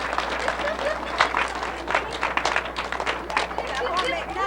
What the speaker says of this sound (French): Il mérite une bonne main d'applaudissements.